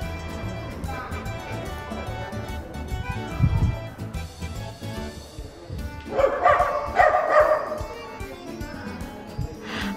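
A dog barks repeatedly in the hilltop town of Castiglione di Sicilia on a hot summer day, sharp loud barks bursting out amid outdoor ambience, with a person talking faintly underneath.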